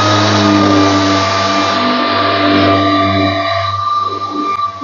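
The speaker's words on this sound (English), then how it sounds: "Got the orbital sander set up, P240, trend hoover on the go" An orbital sander fitted with P240 sandpaper runs continuously alongside a Trend vacuum extractor while smoothing a thick timber floating shelf on site, producing a loud steady whine and hum with no talking.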